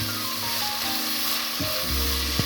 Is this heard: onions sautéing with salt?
yes